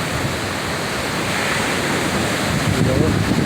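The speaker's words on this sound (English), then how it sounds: "it's almost like a non-stop, almost like man-made waves rolling in" Man-made waves roll in without pause, a steady broadband wash of surf-like rushing that swells slightly louder toward the end, close and continuous with no speech.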